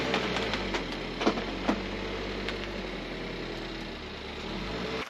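A 2022 Subaru WRX engine runs steadily at low revs while reversing, with a couple of brief knocks early on, fairly close and unbroken.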